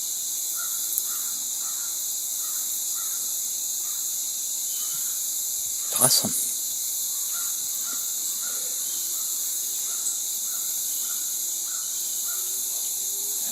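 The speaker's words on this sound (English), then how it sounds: "There's crows freaking out down there because they're chasing a hawk." Outdoor ambience with steady insect chirring throughout, a few distant crow caws scattered across, and one brief louder burst near the middle; a voice speaks briefly.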